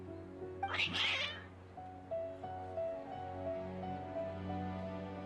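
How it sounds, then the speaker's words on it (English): Cats in the Genshin Impact game let out one loud, drawn-out yowling meow, followed by softer mewing over a steady low game-music drone. "Your cats seem pretty worked up."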